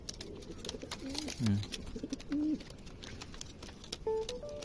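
Pigeons coo in several soft, throaty phrases close by, scattered across a few seconds over faint background noise.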